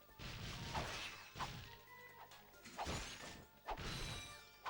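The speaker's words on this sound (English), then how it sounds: "smashing the boxes with frogs in them with the enemies, because this game has physics" Wooden crates smashing apart in Ratchet & Clank, with enemies and frogs caught in the physics, four or five loud breaking crashes in an irregular rhythm over busy game sounds.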